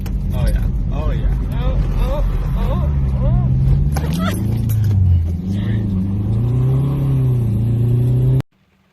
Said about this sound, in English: that clip you just saw, Ali took of me driving in my Civic.